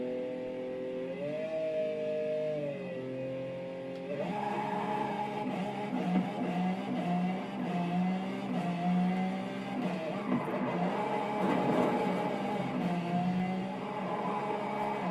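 A car engine in the racing game Forza Horizon 5 climbs through rising revs in stepped surges, then holds a busy, buzzing drone that swells and eases, steady and fairly loud, with no one speaking.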